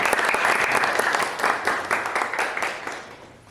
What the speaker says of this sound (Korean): 큰 박수로 맞이해 주시길 바랍니다